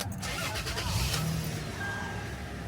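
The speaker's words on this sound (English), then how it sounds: "you can see the car turned over" A car engine cranks and turns over on power from a Milwaukee M18 Hotshot jump starter (3841-20), a steady close, rough running drone throughout with a brief higher whine near the end.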